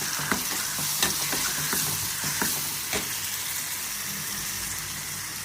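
Coarse semolina roasting in a kadhai for sheera while being stirred: a continuous soft frying hiss with light, irregular scraping taps from the stirring, close and steady, with no speech.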